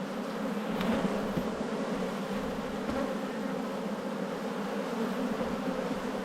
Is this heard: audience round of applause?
no